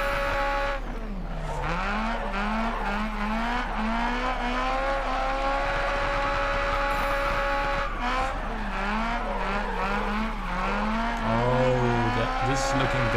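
A race car in the driving game GRID Autosport howls through rising and falling engine revs with quick gear changes and brief tire squeal, loud and continuous.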